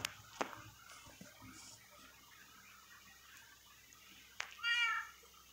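A cat meows in a survival video game, two short meows heard at the start and near the end over a quiet background, with a brief soft click between them.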